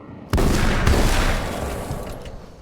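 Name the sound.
gunshots in video game Alan Wake's American Nightmare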